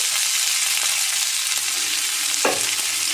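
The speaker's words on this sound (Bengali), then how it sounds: "এবার আমি কিশমিশটা ভেজে নেব এই ঘিতেই।" Raisins frying in hot ghee while zarda pulao is being made, giving a steady close sizzle with a brief scraping stir near the end.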